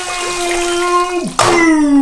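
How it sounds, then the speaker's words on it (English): A Disney Cars 3 Miss Fritter splash racer toy car bursts out of water with a short sharp splash. Tonal sung or hummed voicing runs under and after it. "And then she jumps out of the water to get Cruz and Lightning."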